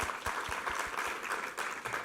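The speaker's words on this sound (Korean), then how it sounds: "우리 하나님께 감사와 영광의 박수 올려드리겠습니다" Sunday worship congregation claps together, a brief, steady burst of applause with a faintly rhythmic pulse, heard from a distance at moderate volume.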